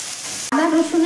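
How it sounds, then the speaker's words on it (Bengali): Ginger garlic paste hits a hot pan for a duck egg curry, bursting into a loud, steady sizzle that swells and stays bright as it is stirred and scraped, with no voices. "এর সাথে আমি আদা রসুনের পেস্টটা দিয়ে দিচ্ছি। আদা রসুনের কাঁচা গন্ধটা যাওয়া পর্যন্ত এটাকে একটু ভালো করে কষবো।"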